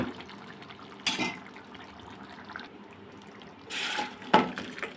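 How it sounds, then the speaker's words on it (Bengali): Cooked goat mutton curry is tipped out of a cooking pot in two short bursts of wet sloshing and scraping. Quiet lulls sit between the bursts, with no talking. "ঢেলে নিলাম দেখো হয়ে গেছে আমার মাংস রান্না"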